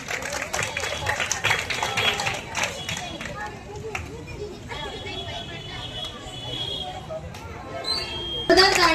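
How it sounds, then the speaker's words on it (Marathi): Loud applause at a school welcome ceremony for the new session, dense clapping from a crowd of students and guests that swells and fades, with hubbub of voices around it. "जोरदार टाळ्या होत्या"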